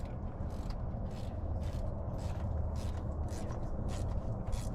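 Diesel injector being secured down with hand tools, giving a steady run of rhythmic mechanical ratcheting clicks at close range, repeating roughly every half second over a constant low background hum, with no voices.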